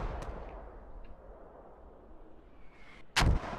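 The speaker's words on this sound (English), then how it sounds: "So the mortars are much closer this time, but still decently protected." A single sharp, loud mortar blast near the end of a stretch of low battlefield rumble in a military video game match, with a fainter distant thump earlier.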